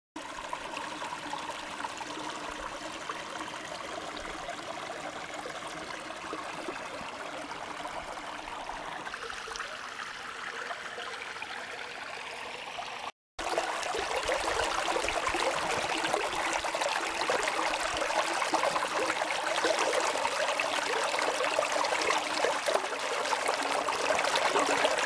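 Stream water flows and trickles steadily at a hiking stop near a water point, a continuous close rushing babble that grows louder and fuller after a brief cut midway.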